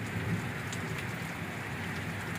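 Heavy rain falling on muddy village roads, a continuous close wash of dense patter that holds steady throughout, with no talking.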